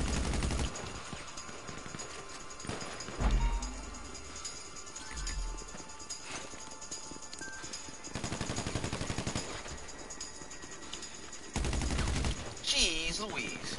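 Gunfire in GTA Online during a corner-shooting firefight: repeated bursts of rapid shots and bangs, several loud volleys spread across the stretch, mixed with game noise and excited players talking over the action.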